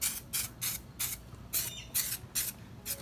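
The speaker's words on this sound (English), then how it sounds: "you're gonna spray it with some of this adhesive from promoter" An aerosol can of adhesion promoter hisses in a series of short bursts, about seven sprays with brief pauses between, close and moderately loud.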